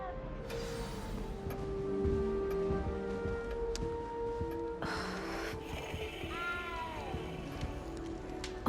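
A cat in the Hogwarts Legacy castle meows several times over a steady game music and ambience bed, the cries rising and falling, the clearest ones toward the end.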